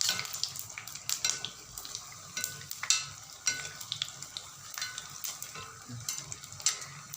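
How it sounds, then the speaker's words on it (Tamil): Mysore bonda deep-frying in hot oil while being turned, giving a continuous crackling sizzle broken by irregular pops and spatters, close and fairly quiet, with no talking. "இப்போ நல்லா பெரட்டி பெரட்டி வறுத்து எடுக்கணும் இல்லாட்டி ஒரு பக்கமே வேகும் ஒரு பக்கம் வேகாது"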